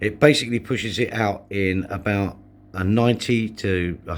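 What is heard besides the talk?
None of the usual background noises is heard.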